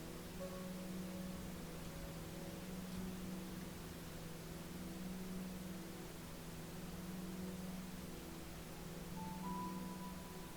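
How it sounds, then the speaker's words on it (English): Continuous pink noise as a steady, even hiss, faint and unchanging, with faint tonal hums underneath and no voices. "Pink noise has been shown to activate the parasympathetic nervous system"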